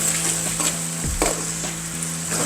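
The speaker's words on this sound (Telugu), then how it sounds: "అల్లం పేస్ట్ బాగా ఫ్రై అయిపోయింది." Ginger garlic paste frying in oil in a pan for a prawn garlic-chili dish: a constant close sizzle with one brief scraping stir, and no talking.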